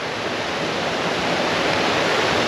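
A river gorge rushes loudly after heavy rain, a dense, steady roar of fast-moving water close by with no voices.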